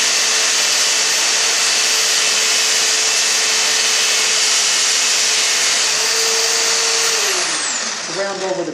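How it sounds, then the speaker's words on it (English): A drill press spins a small flat wheel sander against wood, a steady high whine and hiss that holds, then winds down and stops near the end. "what I've got installed in the end of this drill, I spoke about that, is a little flat wheel sander"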